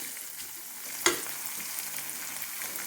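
Shallots and ginger frying toward brown, a faint steady sizzle running throughout with one sharp stir or scrape about a second in, close and quiet with no talk.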